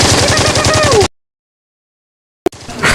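Rapid gunshots fire in a loud, close burst for about a second, followed by silence and a single short crack as background sound returns.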